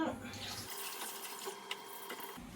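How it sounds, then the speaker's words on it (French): Water runs from a tap into a cooking pot, a steady close splashing stream that fills most of the short stretch. "je remplis d'eau à la bonne mesure"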